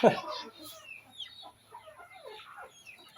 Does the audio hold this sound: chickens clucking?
yes